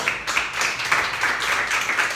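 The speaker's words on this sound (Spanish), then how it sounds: "Denme otro aplauso fuerte al Rey" A church congregation applauds for the King, dense continuous clapping that stays loud and even throughout.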